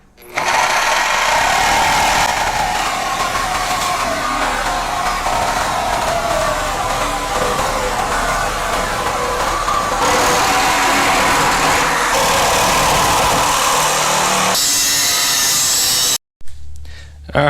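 A power tool cuts rusty inner skirt metal on a Foxbody car, a loud, continuous grinding whine that holds steady for about sixteen seconds, then stops abruptly.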